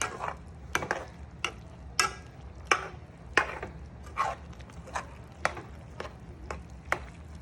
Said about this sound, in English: So let me mix this good.